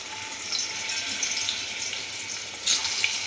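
Pumpkin pieces frying in oil in a pan, a steady soft sizzle and crackle running throughout with a brief brighter burst of spitting near the end.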